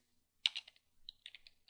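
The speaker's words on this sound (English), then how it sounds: "Type in sudo" A short burst of quick clicking keystrokes on a computer keyboard, a pause, then a second run of lighter taps, close and quiet in a silent room.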